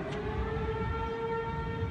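Tornado warning sirens sounding in a small town during a storm, a steady sustained wail with layered tones held over a constant low rumble, fairly distant and even in loudness throughout.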